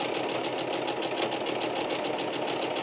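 A sewing machine stitches bucket storage fabric with a long stitch length, giving a close, steady, rapid mechanical whir with even rhythmic clatter and no talk.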